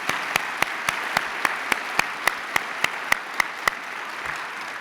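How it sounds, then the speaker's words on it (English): Sparse, evenly spaced claps ring out at an annual meeting, a steady single-handed rhythm of about three sharp claps per second over a faint hall murmur. "that deserves a big round of applause"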